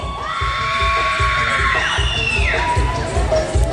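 Spectators at a couples dance contest in Springdale, Arkansas yell, whoop and cheer loudly for couple number 8, the shouting swelling over a steady thumping music beat for several seconds.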